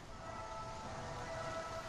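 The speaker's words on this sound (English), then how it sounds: "And it's raining." Steady rain in the video game Far Cry 6, a faint continuous hiss with a soft low rumble, no voices over it.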